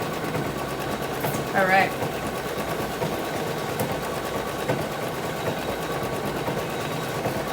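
An embroidery sewing machine stitches a design with a continuous, fast mechanical whir and rattle that stays loud and steady throughout, while a person briefly speaks over it.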